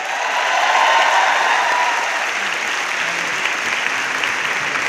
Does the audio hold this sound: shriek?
no